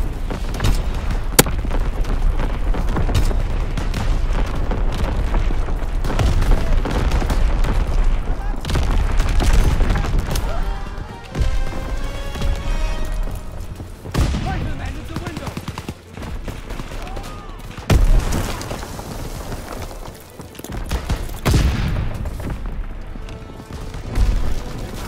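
An artillery battery fires during a Call of Duty WWII team deathmatch at a flak tower, heavy booms mixed with a constant clatter of gunfire and explosions, loud and close, with occasional radio voices under the din.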